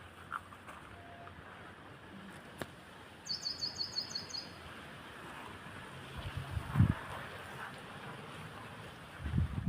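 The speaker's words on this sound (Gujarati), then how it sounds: "એટલો ભારે જો તમે અવાજ આવતો હશે, એટલો ભારે પવન હાલે" Strong wind blowing outdoors in a field, heard as a continuous rushing buffet against the microphone with gusts, plus a brief bird chirp in the background.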